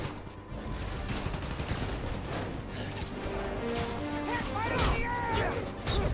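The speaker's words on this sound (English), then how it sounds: "There's one more guy with a gun shooting him already." Gunfire crackles in a Spider-Man Miles Morales fight on PlayStation 4, with rapid shots layered over dense game music, impacts and voices, loud and continuous.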